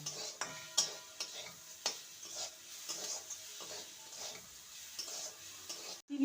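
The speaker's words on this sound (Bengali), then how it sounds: "চিনি দিয়ে ভালো করে নেড়ে নেব চিনিটাকে গলিয়ে নেব" Sugar stirred in a pan as it melts, quiet scraping and tapping of a spoon against the pan at an irregular pace, faint and close, with a light sizzle underneath and no voices.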